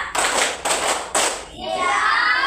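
A classroom of children claps hands in quick, loud bursts of about three claps.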